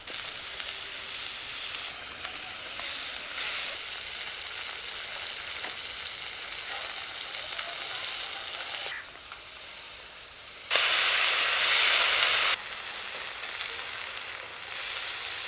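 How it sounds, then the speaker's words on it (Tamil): Fish curry simmers and sizzles in a pan, a continuous bright frying hiss that swells loudly for a couple of seconds near the end and otherwise holds steady, with no talking. "குழம்பு நல்லா கொதிக்குது."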